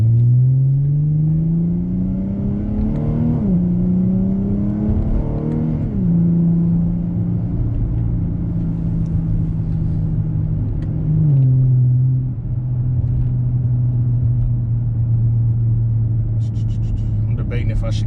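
Chrysler 300 pulling away in first gear and climbing through gears on paddle shifters: a loud, close engine drone rising in pitch, dropping sharply at each upshift around five and eleven seconds, then holding a steady cruise hum.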